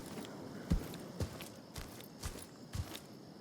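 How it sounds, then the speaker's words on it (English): Footsteps in the tactical shooter game Incursion Red River, a handful of soft, evenly spaced thuds at a walking pace, faint and fairly distant, with no one talking. "I thought I could hear footsteps right there."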